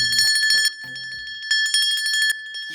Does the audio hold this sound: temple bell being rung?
yes